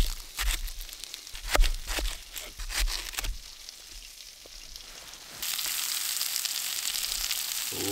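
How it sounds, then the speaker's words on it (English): Onions sizzle over a campfire on a snowy winter camp, crackling and popping in close bursts at first, then settling into a steady, louder hiss of frying. "Ooh, grilled onions are so good."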